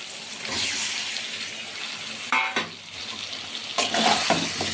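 Chicken frying with whole spices in a pan sizzles steadily and fairly loudly up close, punctuated by bursts of scraping and clattering as the meat is stirred and turned, with no one speaking.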